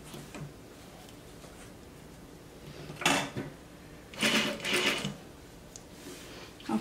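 Sewing machine stitching fabric with a rolled hem foot, short quiet bursts of rapid mechanical whirring separated by pauses, faint and close in a calm room.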